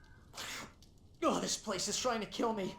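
A game character in Alan Wake sneezes once, a short sharp burst, followed right after by a voice speaking.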